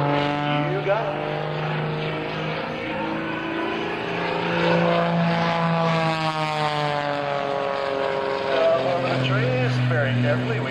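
Aerobatic stunt plane flown by Jim LeRoy at the 2004 Sussex Airshow, its engine droning steadily through an upright spin with wavering pitch, heard at a distance over an announcer's continuous commentary.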